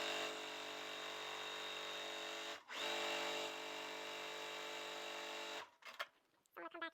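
Sewing machine stitching quilt block fabric runs in a continuous loud whir with a brief pause near the middle, then stops and gives way to quieter handling sounds.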